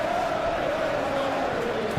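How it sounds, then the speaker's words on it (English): Stadium crowd in eFootball PES 21 during an Aston Villa vs Liverpool Premier League match, a steady roar of massed voices that swells slightly as play shifts, continuous and fairly loud with no pauses. "the crowd are reacting to that now"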